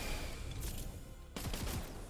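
Gunfire in the video game Wayfinder while aiming at an enemy weak spot, a rapid burst of shots in two bursts over a dense, noisy background of game sound.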